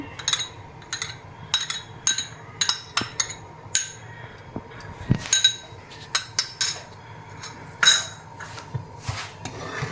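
A spoon clinks and scrapes against a pot while basundi is stirred, a string of sharp metallic taps at uneven intervals, close and fairly quiet with no talk.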